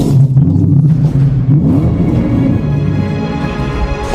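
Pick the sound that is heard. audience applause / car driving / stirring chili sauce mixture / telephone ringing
car driving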